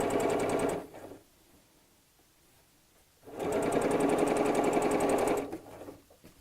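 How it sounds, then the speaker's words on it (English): A sewing machine stitches a quarter-inch seam around a curve on fabric for a baby nest. It runs in two steady buzzing bursts, the second longer, with a quiet pause between them. "we'll sew this all the way around. Just with a 1/4 inch seam allowance"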